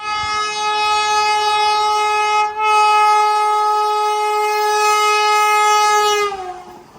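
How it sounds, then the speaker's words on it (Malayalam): A Vande Bharat Express running from Madgaon to Mumbai CST sounds a long, loud, steady horn for about six seconds, with one brief dip partway through, and then fades as the train passes, with rail rumble underneath. "മഡ്ഗാവ് നിന്ന് മുംബൈ CST-യിലേക്ക് പോകുന്ന വന്ദേ ഭാരത് എക്സ്പ്രസ്."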